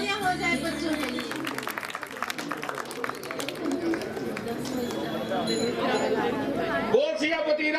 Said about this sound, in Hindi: जोरदार तालियां हो जाए बच्चों के लिए।